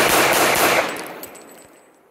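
A Kimber Ultra Carry II pistol fires a fast string of shots as a magazine is emptied outdoors, the loud cracks running together for under a second before the echo fades away.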